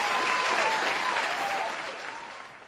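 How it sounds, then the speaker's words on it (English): Steady crowd applause at a film event, dense and continuous, fading gradually toward the end. "I don't deserve applause"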